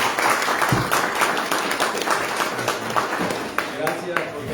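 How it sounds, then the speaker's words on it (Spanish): Applause from a church gathering for the women who cooked and served a Christmas dinner, a fairly dense, moderately loud clapping patter running throughout with voices mixed in. "démosle un aplauso a las hermanas"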